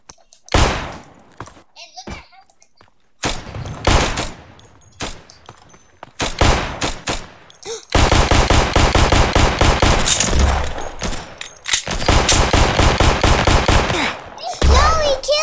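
Gunfire in a Roblox game: scattered single shots at first, then long loud bursts of rapid automatic fire with short pauses between them, close and dominant throughout.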